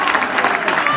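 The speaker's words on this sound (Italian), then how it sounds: "Gli applausi anche per Berri" Applause from a crowd at an amateur football match in Sicily as a player is substituted, a brief steady patter of clapping under a commentator's voice.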